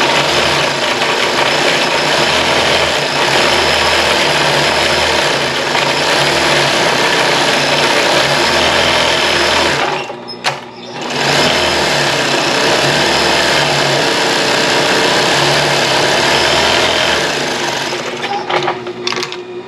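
A sewing machine runs fast and continuously, stitching a valance curtain with a steady whirring rattle, pausing briefly midway before starting again.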